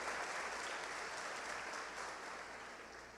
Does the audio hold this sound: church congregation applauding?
yes